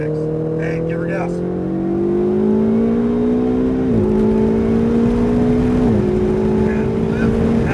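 Ferrari 488 GTB pulling hard on a race track at Nelson Ledges, a steady climbing engine drone with two brief gear-change dips, loud and close from inside the car, with an instructor's voice heard over it.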